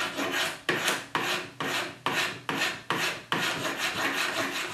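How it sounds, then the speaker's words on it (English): Curved files rasp across a wooden shoulder plane body from a Hock kit, smoothing rough bandsaw marks on its curves. Repeated stroke-by-stroke rasping runs in a steady rhythm, close and loud, with no talk. "I'm going to take some curved files."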